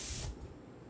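An airbrush sprays paint while detailing a lion: a short, loud burst of airy hiss that cuts off after about a third of a second, leaving a faint background hiss.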